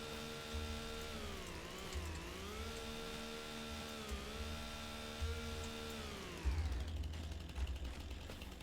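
A chainsaw in the video game Farming Simulator 25 buzzes steadily while cutting bushes, its whining pitch dipping and rising as it bites, then giving way to rough crunching near the end.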